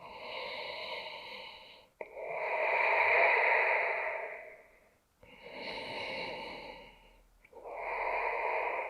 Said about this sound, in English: Just a couple more big breaths here.